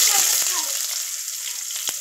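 Chopped onion frying in oil with bay leaf, dried red chillies and cumin for potato dum, giving a steady close sizzle with a few soft stirring clinks.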